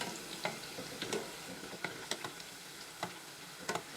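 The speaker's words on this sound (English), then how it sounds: "we just want these to fry to a golden brown or a golden color" Leeks frying in neutral oil such as peanut or grapeseed, a soft steady sizzle broken by scattered sharp pops and crackles at an even, moderate level with no talking.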